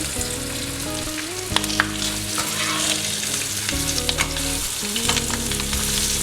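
Green chillies, seeds removed, frying steadily in a pan for Hyderabadi masala hari mirch, a continuous close sizzle with occasional crackles over background music, no talking.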